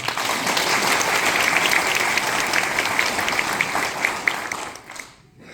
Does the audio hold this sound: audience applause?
yes